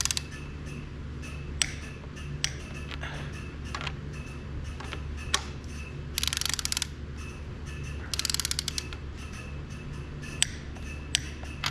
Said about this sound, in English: I'm gonna go ahead and torque them to 50.